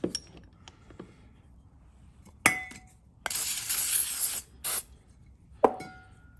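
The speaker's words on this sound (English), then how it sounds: "here you would want to lubricate these slides for sure" Aerosol lubricant sprayed onto the slides of a Von Duprin 88 exit device: one long, close hissing burst followed by a shorter spritz, with sharp metallic clinks of the hardware before and after and no talking.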